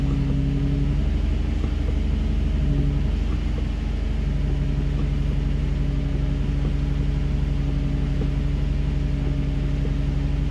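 A car engine idles steadily throughout during disc brake bleeding, a constant low rumble with a faint hum layered on top and no talking.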